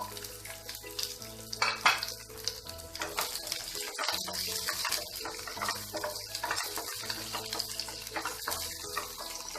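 Chopped onions frying in a pan while a raw banana fry is made, a steady broadband sizzle with scattered stirring clatter and some watery bubbling, close and moderately loud, with no talking.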